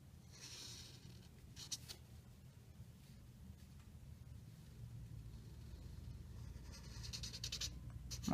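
A pen or pencil scratches quietly on paper as a graph is drawn by hand, faint intermittent strokes over a low room hum, with no speech.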